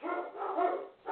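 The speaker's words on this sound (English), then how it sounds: "There's some dogs." Dogs barking in a short burst of rough, repeated yaps, fairly close and moderately loud, with no talking.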